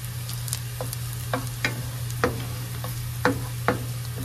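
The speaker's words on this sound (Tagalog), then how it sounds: "igisa na natin yung bawang" Garlic sizzles steadily in a hot pan for a chicken pininyahang dish, with sharp clicks and scrapes of stirring breaking through at irregular intervals, close and moderately loud.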